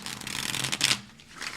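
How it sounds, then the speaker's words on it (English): Tarot deck shuffled by hand during a Celtic Cross reading, a dense close riffle of cards lasting over a second with a brief pause, heard alone. "Let's shuffle it out one more time, please."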